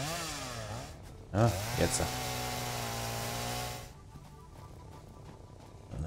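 A chainsaw in the game Satisfactory drones steadily and revs up once early on, then cuts out near the end; someone speaks briefly over it.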